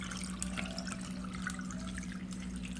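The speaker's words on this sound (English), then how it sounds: "Now I am ready to pour." Ginger lemonade being poured over lots of ice in a glass, a steady trickle of liquid with faint drips and light ice clinks, soft and close with a constant low background hum.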